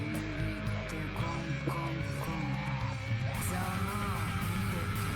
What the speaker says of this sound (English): She's screaming.